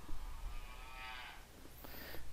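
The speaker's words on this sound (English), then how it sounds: "the cow plays sound" A cartoon cow in an Alice animation program lets out a single drawn-out moo, followed by a shorter second call, playing alone against low background noise.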